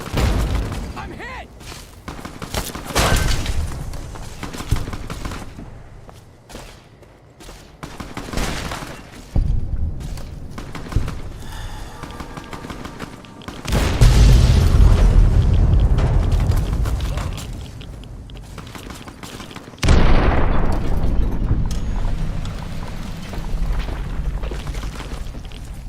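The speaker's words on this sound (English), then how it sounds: "Mind the explosion!" Explosions in the Fallout New Vegas video game: several heavy booms with rumbling low-end tails and scattered gunfire, two especially loud blasts landing in the middle and near the end, with shouted in-game voices.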